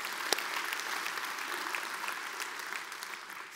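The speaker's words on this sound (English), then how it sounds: "let's give them a round of applause" A civic audience at a State of the City address claps together, a sustained even wash of applause that stays moderately loud and tapers slightly at the end.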